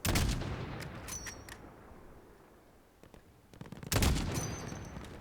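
Bursts of rapid gunfire crackle in Call of Duty: Modern Warfare, a heavy volley at the start, scattered shots in the middle and another loud burst near the end.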